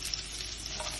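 Onions and green chilies fry in a pan with a continuous soft sizzle, steady and close, with faint stirring, while cooking for a pasta dish.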